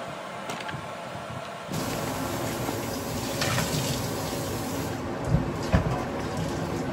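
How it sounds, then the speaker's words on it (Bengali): Water pours steadily from a tap, filling a container and spilling over in a continuous close rush, with a few brief clatters near the end. "এদিকে জল ভরে পড়ে যাচ্ছে।"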